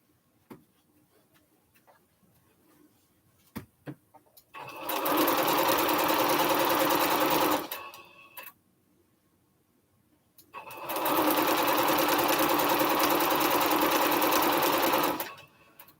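A sewing machine runs in two sustained, loud bursts while stitching strips together for a Triple Irish Chain quilt, separated by a quiet pause with a few faint handling clicks.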